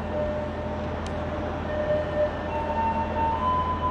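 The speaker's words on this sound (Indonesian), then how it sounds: "Di jalur 3 ada kereta komuter nih." Commuter train at an Indonesian railway station, heard as a steady low rumble of rolling rail cars with faint tonal wheel and brake whines, fairly close and continuous, without talk.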